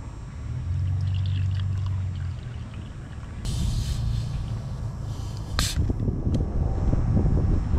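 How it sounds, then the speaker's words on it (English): Vinegar pours into a container in a steady gurgling stream that shifts partway through, with a few clinks and splashes near the end. "Go ahead and pour my vinegar in here."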